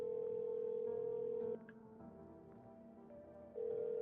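A steady in-game phone dial tone plays alone, breaks off briefly midway, then returns; no voices.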